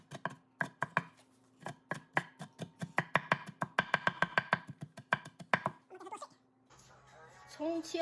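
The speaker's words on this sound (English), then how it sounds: "Finely chop the scallion and small onion." A knife finely chops scallion and small onion on a board in quick, sharp, evenly spaced strikes, each close and distinct, before the cutting stops and other faint kitchen movement and rustling follow.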